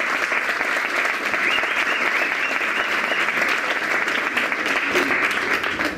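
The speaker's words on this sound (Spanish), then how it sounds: "para quien pido un aplauso" An audience claps warmly for the compiler at a Spanish-language psychoanalysis book presentation, a full, steady round of applause held at an even level and tapering slightly at the end, with no voices on top.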